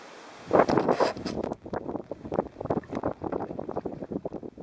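Strong gusts of wind rush and buffet the microphone on open water while a small boat is paddled against them, loud roaring bursts coming irregularly over the whole stretch, with no speech.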